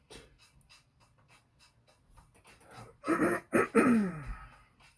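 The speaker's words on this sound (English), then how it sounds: "Clear my throat as I think the coronavirus is kicking in." After a quiet stretch, someone clears their throat several times in quick, rough bursts, fairly close and loud, with no speech.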